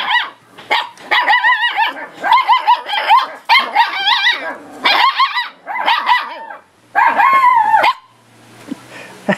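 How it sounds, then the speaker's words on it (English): A farm dog barks and yips repeatedly at close range, loud bursts in quick succession with short pauses between them. "he can bark as well."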